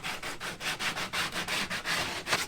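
Sandpaper rubbed by hand along the cut edge of a kayak hatch opening, a close, steady run of rhythmic scraping strokes, about a dozen back-and-forth passes with no talking.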